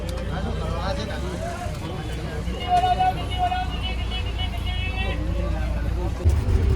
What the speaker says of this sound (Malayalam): ബസ്സിൻ്റെ ഹോൺ എയർ ഹോൺ ആയതുകൊണ്ട് നല്ല ശബ്ദമാണ്